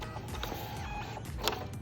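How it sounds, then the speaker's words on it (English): A printer runs check-in name tags and a parent security tag at a children's ministry desk, giving a steady mechanical whir with small clicks and a brief louder burst near the end, with no voices. "It'll load. That'll come out the printer."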